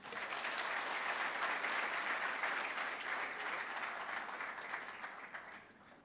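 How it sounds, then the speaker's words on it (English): An audience claps steadily at a graduation ceremony for a public service emerging leaders fellowship program. The dense applause holds for several seconds, then thins and fades near the end. "Let us give the two presidents' class a more heartier clap"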